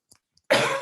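A single harsh cough bursts out close and loud after a near-silent pause, with only faint rustles before it.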